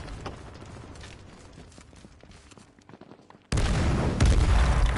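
Molotovs and grenades go off in a multiplayer shooter: a stretch of sharp, gunfire-like pops and cracks, then a sudden loud blast that roars on with heavy rumble to the end.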